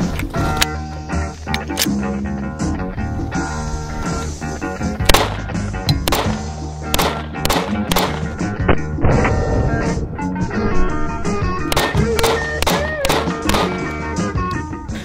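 An HK USP .45 paintball pistol replica fires a long string of sharp, loud cracks in quick, uneven succession, each a close snapping pop, with no talking between shots.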